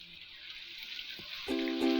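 Garlic ginger paste dropped into hot oil with browned onions, a soft sizzle that swells louder near the end as the paste hits the pan.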